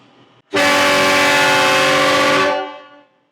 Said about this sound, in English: This is the biggest air horn system I think we've ever installed.